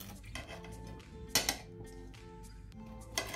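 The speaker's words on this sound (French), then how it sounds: "maintenant je vais les couper en cubes" A knife cuts peeled sweet potatoes into cubes on a kitchen surface, giving a few sharp, close clicks and chops spaced irregularly over a quiet background.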